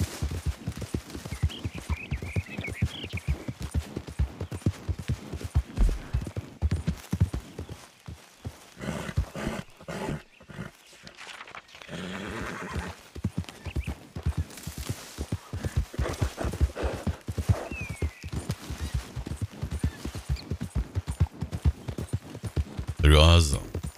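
Rapid hoof clip-clops of a horse galloping in a video game, a steady drumming rhythm running almost throughout, with a voice talking over it.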